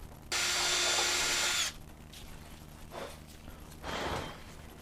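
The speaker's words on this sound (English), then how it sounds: "we had to drill those hole in the door jamb. So that's what we're doing now." Power drill boring holes into the door jamb of a 5th gen Toyota 4Runner during a fiberglass fender install: one loud, steady whine of about a second and a half close by, followed by quieter shuffling and handling noises.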